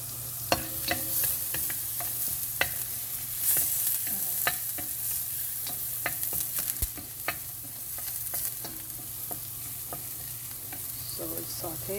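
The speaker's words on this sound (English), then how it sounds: "So we can go ahead and start sauteing everything." Food sautéing in olive oil and clarified butter, a steady close sizzle with scattered crackles and occasional sharp scrapes of stirring, no voices.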